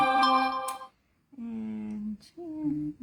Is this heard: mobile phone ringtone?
yes